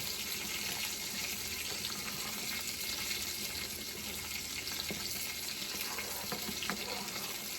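Chicken simmering in a pot over medium heat, seasoned with Himalayan salt, gives a steady, moderately quiet bubbling hiss that carries on without pause.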